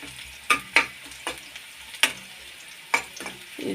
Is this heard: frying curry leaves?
yes